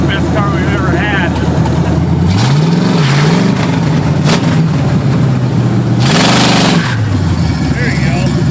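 An old Pontiac GTO Judge engine cranks and revs inside a shop, rising and falling in two strong surges, with people talking over it.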